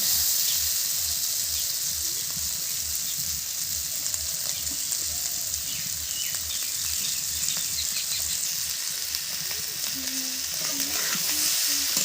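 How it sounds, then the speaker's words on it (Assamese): Pork frying in a hot pan gives a continuous loud sizzle and crackle for about twelve seconds, with a few soft squeaks and scrapes of stirring near the end; nobody speaks. "ভালকে ভাজা হৈ আছে"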